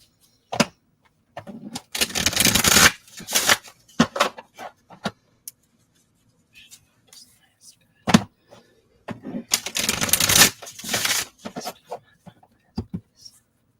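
Oracle cards are shuffled in a few brisk, papery riffles separated by quieter gaps, with soft taps and handling noises close by.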